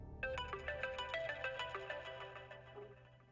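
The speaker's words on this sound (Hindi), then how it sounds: "किसका फोन है?" A mobile phone ringtone plays a bright, repeating electronic melody of quick notes, moderately close and clear, with no talking over it.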